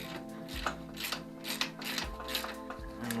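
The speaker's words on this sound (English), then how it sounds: "Just need a 17mm spanner for the other side there. Which I'm just going to put on." A 17mm spanner ratcheting on a Kawasaki KX 60 motocross bike during a teardown, with quick repeated ratchet clicks in short bursts, fairly close and moderately loud.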